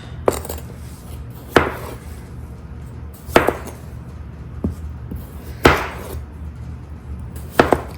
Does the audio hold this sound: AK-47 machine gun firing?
no